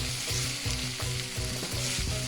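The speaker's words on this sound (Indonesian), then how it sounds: "bumbunya wangi dan kering, sudah panas ya" Spicy potato chili paste spices sizzle loudly in a hot wok, with a steady frying crackle broken by rhythmic stirring scrapes roughly every half second and no talking.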